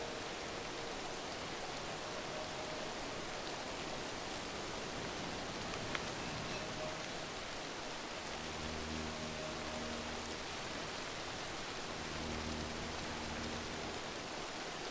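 Steady rain falls in the Arma video game, a dense even hiss of drops on foliage and ground that runs throughout, with faint low rumbling surges in the latter half.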